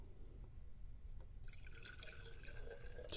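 Gasoline poured from a glass jar during a long-term fuel additive test, heard as a close, steady liquid trickle and splash that begins after a brief quiet moment and carries on without talk.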